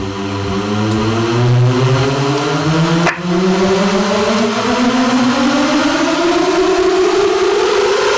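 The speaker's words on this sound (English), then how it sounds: "You got your noises like this, your uplifters" Uplifter riser effect in a hip-hop beat: a loud, dense noisy swell with tones sweeping steadily upward over several seconds, briefly broken by a sharp hit midway, no voices.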